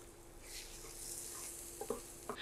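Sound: two eggs frying with onions in a pan

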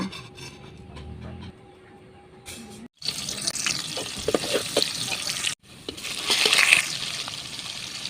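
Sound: water being poured into cooking chicken meat

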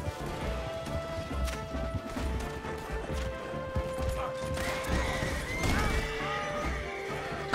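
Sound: horse neighing and crashing, Red Dead Redemption 2 video game

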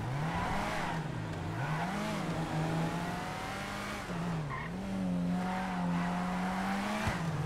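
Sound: car driving on dirt, from a role-play video game

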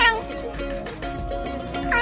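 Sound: cat meowing

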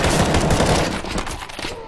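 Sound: gunfire shooting zombies in CS:GO Zombie Escape video game

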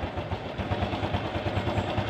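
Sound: Honda Wave 110 motorcycle engine kickstarted cold

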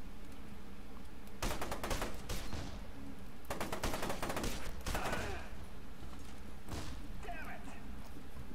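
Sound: gunfire in video game F.E.A.R. 2

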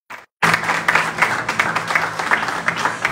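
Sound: church congregation applause

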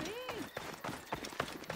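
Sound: galloping horse hooves in video game Assassin's Creed Origins

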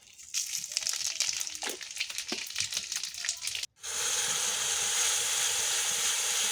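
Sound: panch phoron spices sizzling in hot oil

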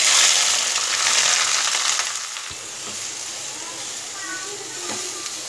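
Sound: onions frying in hot oil

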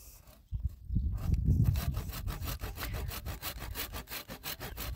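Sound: sawing through thick tree rootstock with a hand saw

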